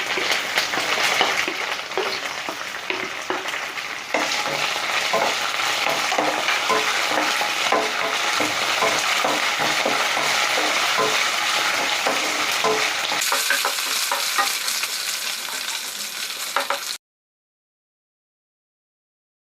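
Curry leaves, dry red chilies and coriander seeds fry in hot oil in a steady, loud sizzle with stirring scrapes, running unbroken before stopping abruptly, with no talking.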